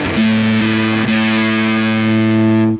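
An electric guitar through a JHS Legends of Fuzz pedal, distortion and tone knobs at middle, holds a buzzy, sustained chord with a slight change partway, ringing out for a few seconds before cutting off.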